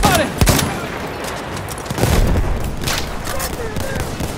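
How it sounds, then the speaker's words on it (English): Enemy machine gun fire rattles in a Rush Ballroom Blitz match, loud sustained bursts with sharp shot transients and booming impacts, continuous over a chaotic battlefield backdrop. "Machine gun! One of theirs!"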